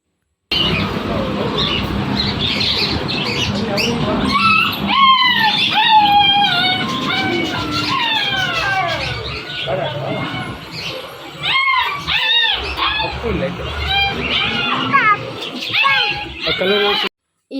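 Dogs yip and whimper among chirping birds in a busy, close mix that runs steadily, with voices talking underneath.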